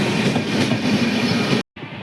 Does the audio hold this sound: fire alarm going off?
no